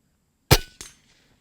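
An integrally suppressed air rifle fires once at full power, a sharp, close crack followed a quarter second later by a fainter metallic knock, then silence.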